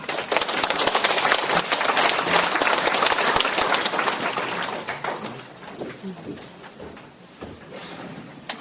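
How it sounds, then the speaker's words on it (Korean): Applause from an audience at a humanities lecture forum, loud and dense at first, then thinning over several seconds into scattered individual claps as the crowd settles. "큰 박수 부탁드립니다"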